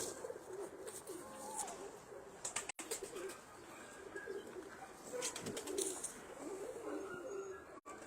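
Domestic sport pigeons coo in a low, throaty murmur, with occasional bird calls and soft voices in the background, steady throughout.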